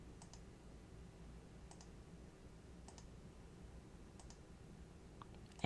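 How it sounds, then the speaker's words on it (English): Mouse clicks while stepping through a slideshow presentation: four or five faint, sharp, evenly spaced clicks over a quiet room hum. "now I'm just going to click through the presentation"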